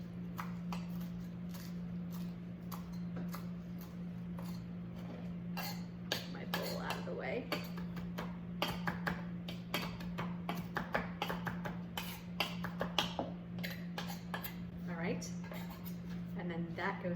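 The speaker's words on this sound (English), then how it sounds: "Tear some of this off. And just give it a little chop here." A knife chops torn fresh cilantro on a board, a run of light repeated taps and clinks that grows busier midway, faint and close over a constant low hum.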